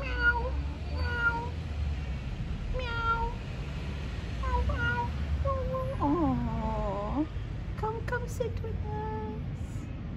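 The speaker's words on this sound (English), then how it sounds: "Oh, you're my first French kitty that I've seen." A cat meows repeatedly in short, clear calls, including one longer drawn-out wail, close by over a low steady background hum.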